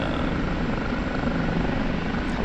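A Kiowa helicopter in the DCS flight simulator gives a continuous, loud rotor and turbine drone with steady low thumping, close and unbroken throughout, with no talking.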